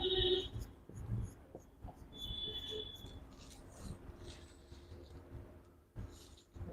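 Faint strokes of writing on a board in a lecture room, with a few short squeaky lines over soft room noise.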